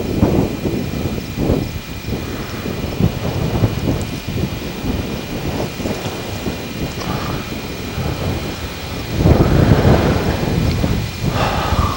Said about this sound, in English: the wind is increasing and increasing